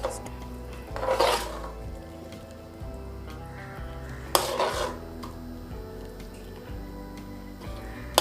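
Spicy Andhra-style guava chutney being served into a dish, with clinks and scrapes of a spoon against pots and plates, a few louder clattering bursts amid steady kitchen noise.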